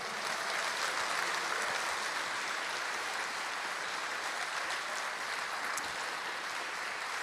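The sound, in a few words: congregation applause in church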